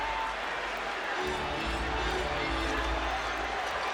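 A basketball arena crowd roars and cheers for Kobe Bryant during his January 2006 game. The broad, steady roar swells slightly partway through and is heard from a distance.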